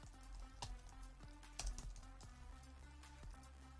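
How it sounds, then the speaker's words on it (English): Rapid keystrokes on a computer keyboard while text is entered into an editor box, a steady run of close, crisp taps with a few heavier clacks and no talking. "start typing in the box"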